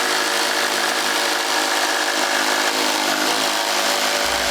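A Festool Carvex jigsaw saws radius curves in wood for a Craftsman-style front gate, cutting just off the line. It gives a loud, continuous buzzing rasp with a steady reciprocating drone across the whole stretch and no voices.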